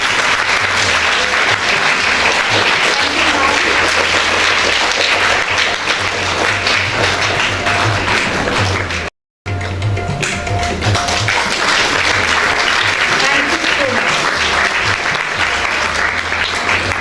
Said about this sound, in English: Keep clapping, audience.